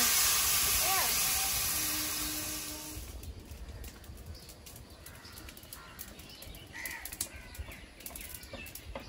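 Water poured into a pan of frying ground spice paste for a spiced potato curry raises a loud, close sizzling hiss for about three seconds, then settles into a quieter, steady simmering crackle.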